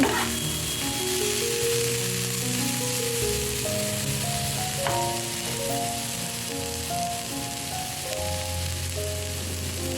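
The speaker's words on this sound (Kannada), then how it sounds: "ಹೀರೆಕಾಯಿ ಸಿಪ್ಪೆನ ಕಟ್ ಮಾಡಿ ಇಟ್ಕೊಂಡಿದ್ವಲ್ಲ ಅದನ್ನು ಹಾಕ್ಕೊಂಡು ಚೆನ್ನಾಗಿ ಫ್ರೈ ಮಾಡಬೇಕು" Ridge gourd peel frying in a pan over medium flame, a steady close sizzle with soft crackles running throughout, with faint melodic background music underneath.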